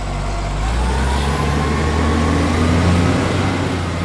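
A vegetable truck drives along bound for Lebak, its heavy engine rumbling low and loud. The engine holds a steady drone, with a slowly rising tone as it runs, and no voices are heard.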